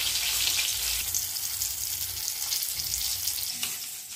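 Chicken pieces frying in hot oil over a medium flame, a steady, dense crackling sizzle running close and loud throughout with no talk.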